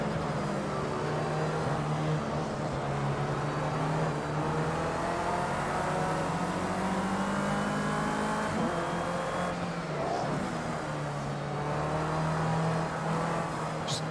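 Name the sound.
race car engine in Project Cars 2 video game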